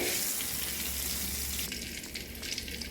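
Butter melting and sizzling in a pan while cooking mapo tofu, a continuous close hissing fry with light crackles and a brief stirring shift near the end.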